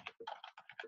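Quick bursts of typing on a computer keyboard, a close, clicky patter of a few keystrokes with brief pauses between them.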